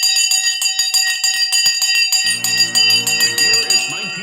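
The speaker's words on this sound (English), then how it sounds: "It's time to ring the bell" Stock market closing bell ringing rapidly and continuously, loud bright clangs that persist as a person begins talking over them partway through.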